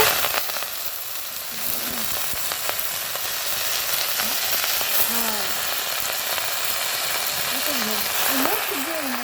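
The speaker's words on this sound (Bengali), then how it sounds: "তারপরে আমি সেই কড়াইয়ের মধ্যে শাক দিয়ে দিচ্ছি শাক রান্না করব" Leafy greens sizzle in a hot kadai, a steady, close frying hiss that runs the whole time, with a faint voice murmuring in the background.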